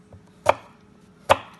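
A knife cuts okra on a board in the kitchen with two sharp, separate chops about a second apart, close and clear against a quiet background.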